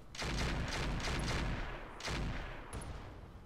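Mech weapons firing in the Roguetech video game: two loud broadband volleys of gunfire and blasts, the first about two seconds long and the second shorter, with a few high metallic pings, no voices.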